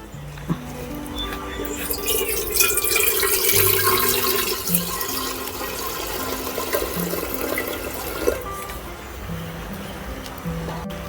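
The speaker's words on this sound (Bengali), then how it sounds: "পরিমাণ মতো পানি দিয়ে দেব" Water runs and splashes into a cooking pot on the stove for several seconds, a steady close pouring rush with faint clunks around it.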